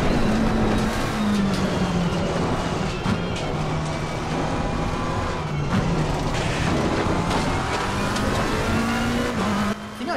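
Race car in Assetto Corsa Competizione descending a mountain track, with a loud steady engine drone shifting pitch through gear changes and faint scraping of the floor underneath, no talking.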